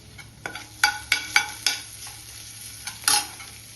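Onion and ginger-garlic paste sautéing in hot oil with cumin and mustard seeds for a tricolour pulao, with a low sizzle under a series of sharp spatula scrapes and taps against the pan, close and without speech.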